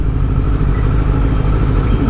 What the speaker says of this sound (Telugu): మనది వచ్చేసి స్కార్పియన్ ఎగ్జాస్ట్